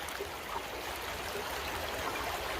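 Cold, shallow creek water rushes and trickles steadily around people wading through it in Crocs, a close, continuous wash of flowing water with no talking.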